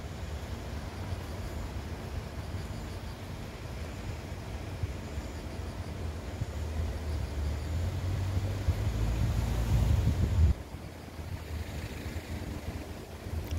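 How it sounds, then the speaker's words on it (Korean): Strong wind gusting outdoors around an orb-weaver spider hanging in its web, a steady loud rumbling roar with heavy low buffeting that builds before cutting off sharply, then calmer after. "지금 바람이 많이 불고 있습니다."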